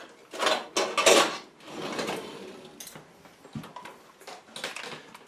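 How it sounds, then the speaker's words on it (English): Eggs are stirred in a bowl with a utensil, giving quick, scraping clatters of metal against the bowl in short bursts, followed by softer, intermittent clinks and taps. "And then you can stir them up with something like this, or even just a fork"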